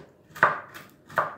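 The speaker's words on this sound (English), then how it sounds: "I'll chop them as well into smaller half" Dried fruit chopped with a kitchen knife on a board while making sweet bread: two separate sharp chopping knocks, close and fairly quiet, with a short gap between them.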